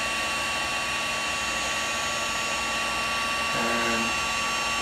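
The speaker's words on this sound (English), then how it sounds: "This is our VT1100 heat shrink gun, and I'm just going to turn it on." A VT1100 heat shrink gun runs with a steady, close blowing whine and airy hiss, holding constant throughout with a brief shift in tone near the end.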